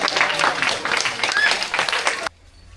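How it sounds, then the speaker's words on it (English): Audience clapping at a crocodile show at a wildlife park, dense and steady for about two seconds before stopping abruptly, with voices mixed in. "Nice one, give the clap, boys."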